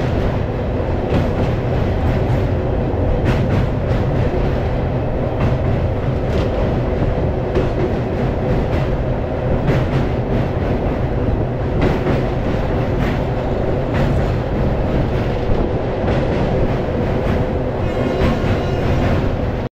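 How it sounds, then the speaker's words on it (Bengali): A Kolkata–Digha special passenger train runs over rails near Kolaghat, its loud continuous rumble carrying a regular clickety-clack of wheels over rail joints, close by and uninterrupted by voices. "এই হচ্ছে আমাদের ট্রেন, কলকাতা দীঘা গোয়া স্পেশাল।"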